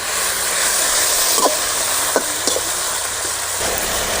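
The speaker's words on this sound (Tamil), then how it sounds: "இந்த கீரையை நல்லா வதக்கி எடுத்துக்கணும்" Mudakkathan spinach greens sautéed in a pan give a steady frying sizzle with a few soft stirring scrapes, fairly close and continuous, with no voices.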